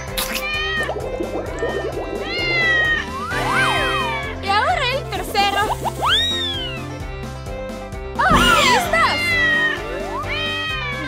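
A cartoon kitten gives a string of high, sliding meows, some drawn out and rising, over background music, with an animated child-like voice talking between the cries.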